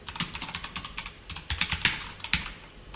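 Code is typed on a computer keyboard in quick, uneven bursts of crisp, close keystrokes, with a few heavier taps standing out and no voices.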